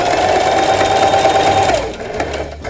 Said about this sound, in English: And then I'm gonna back stitch to set it.